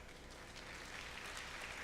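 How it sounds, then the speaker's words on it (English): Steady crowd applause at a high school band spring concert, greeting a flute player; dense, continuous clapping from a full audience that holds even and fairly loud for the whole stretch. "Give her a round of applause"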